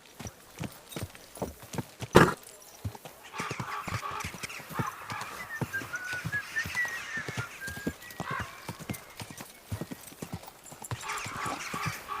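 Steady clip-clop of horse hooves on hard ground with a brief whinny near the start, plus faint background clatter, from the video game Kingdom Come: Deliverance II.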